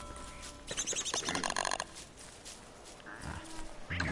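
Pig grunts and oinks from the video game Don't Starve (Reign of Giants), several short harmonic bursts in quick succession amid game ambience and a few soft effects, with no talk.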